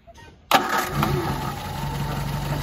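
The small 1.1-liter four-cylinder engine of a 1965 Fiat 1100 cranks briefly after a short quiet pause, then catches and settles into a steady idle.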